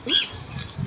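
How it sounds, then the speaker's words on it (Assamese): At the Taj Mahal in Agra, a bird gives a sharp, squawking call, followed a moment later by a fainter second call, with a low outdoor rumble underneath. "চৰাই মাত শুনিছেনে কি ধুনীয়া ন"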